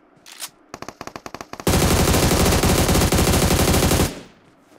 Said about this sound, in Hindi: क्या रिकॉल है भाई इस गन का?